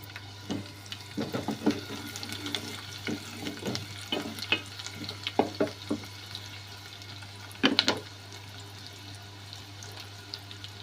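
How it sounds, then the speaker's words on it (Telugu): Onions hit hot oil with cumin seeds in a pan, giving scattered bursts of sizzling and spatter over a steady low hum, with one louder crackling flare near the end. "ఆయిల్ వేడెక్కాక ఆనియన్స్ వేస్తున్నాను"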